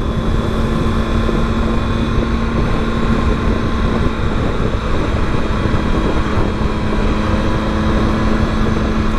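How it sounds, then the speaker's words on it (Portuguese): Triumph Tiger 800 motorcycle from 2020 with a three-cylinder engine, droning steadily and loudly throughout while riding, with a constant low hum and wind noise and no talk. "tô sentindo o som, a frequência mais alta do motor, mas é porque são três cilindros"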